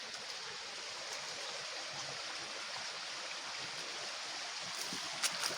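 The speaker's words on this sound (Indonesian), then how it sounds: "Saya akan melewati sungai ini" Steady broadband rush of a mountain river flowing over rocks, a continuous close wash of water with no pauses, loud and even throughout.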